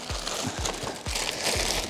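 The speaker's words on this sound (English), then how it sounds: "protected as well by a plastic bag. I'm going to slide that out carefully." A belt-drive turntable with built-in speakers is slid out of its protective plastic bag, giving close, soft crinkling and rustling with a few quick scrapes over under two seconds.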